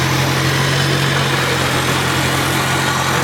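A 1980 International Scout II diesel idling up close, a steady loud engine rumble with even vibration throughout the short stretch and no voices.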